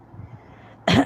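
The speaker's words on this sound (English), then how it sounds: "Time and again I have to clear my throat." A single loud, harsh throat clearing near the end, after a stretch of quiet low background murmur.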